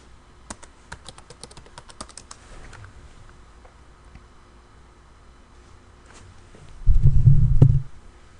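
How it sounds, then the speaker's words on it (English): Quick bursts of typing on a computer keyboard while logging into a website, crisp clicking keys near the listener, followed later by a dull, heavier low rumble of handling. "So I'm going to log into the website now."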